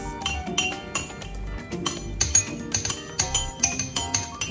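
Glass clinking repeatedly as food coloring is stirred into water, quick bright rhythmic taps of a utensil against the glass, close and clear with no talking.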